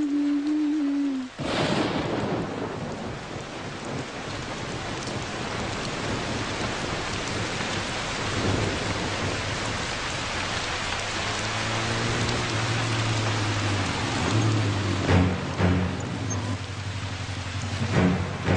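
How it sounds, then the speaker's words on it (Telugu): Heavy rain pouring steadily in a broadband hiss, with low rumbles of thunder partway through and a low droning tone toward the end, no speech. "ఈ వర్షం."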